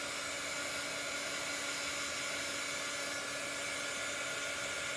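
A hair dryer blowing on chalk paste spread over a craft board, a loud steady whooshing hum that holds constant and close throughout.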